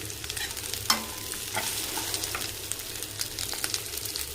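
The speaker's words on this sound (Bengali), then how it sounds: "এরপর ক্যাপসিকাম আর পেঁয়াজটা দিয়ে দেবো।" Capsicum and onion fry in a pan, giving a quiet, steady sizzle with occasional scrapes and taps from stirring, heard close up and without voices.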